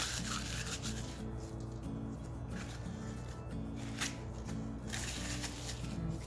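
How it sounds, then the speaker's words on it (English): Tissue paper is torn into pieces and crumpled between the hands, giving a continuous soft, crinkly rustling with a few sharper tearing bursts, close by and fairly quiet. "Rip up pieces and jumble them up in your hands"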